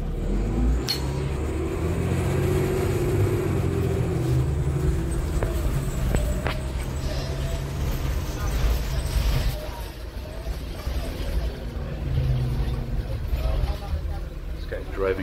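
A 2006 Nova Bus LFS city bus on route 125, heard from inside as a steady engine drone and road rumble that rises and falls under acceleration, with someone talking over it throughout.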